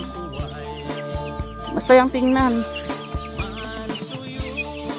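Chickens on a small farm in La Union cluck and squawk in short bursts close by, with one louder cackle near the middle, while a person speaks briefly.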